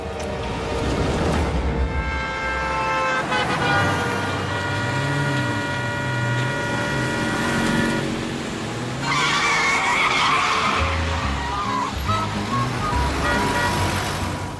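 Voices in a Hindi Shaktimaan animated episode mimic car horns and screeching tire skids, producing loud, sustained honking tones and squealing slides that run continuously for several seconds.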